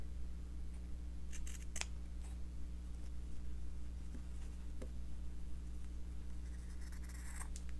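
Scissors snipping through a tree shape cut from fabric, giving a few short, crisp cuts spaced several seconds apart over a steady low background hum, with no talking.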